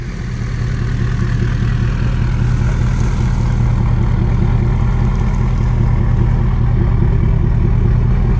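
A truck engine idles steadily while warming up before towing a trailer, a loud, continuous low rumble with an even, throbbing rhythm close by, with no one speaking.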